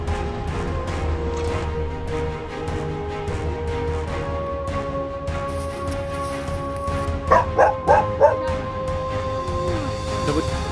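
Dogs barking from a parked car, a quick run of four sharp barks standing out over steady, loud street and crowd noise with people talking.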